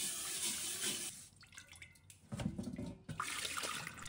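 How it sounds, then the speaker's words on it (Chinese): Clean water running and splashing into a rusty iron wok as it is rinsed, a steady broadband gush that dips briefly and then returns to a full pour, close and alone. "接下来再次加清水冲洗铁锅"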